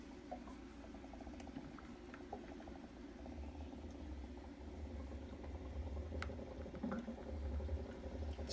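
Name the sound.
bubbling seawater producing HHO gas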